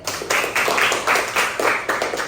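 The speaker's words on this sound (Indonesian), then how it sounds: "kasih aplaus buat Darren" A classroom claps for a student, a short burst of about eight hand claps in fairly even rhythm, close and lively.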